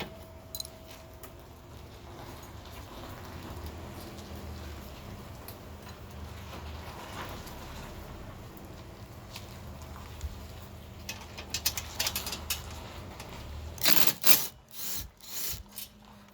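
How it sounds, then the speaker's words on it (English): Ratcheting and scraping as bolts are worked out of the seat back of a Gio Titan chair, a faint rasping run of clicks followed near the end by several louder metallic knocks and clatters. "So start with the back of the seat. Remove those 2 bolts first."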